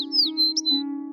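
A snow-white dove, cartoon-style, gives a short, clear chirping call of a few quick notes over a steady musical tone, close and fairly quiet.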